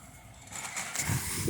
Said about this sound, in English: The driver's pulling off right now.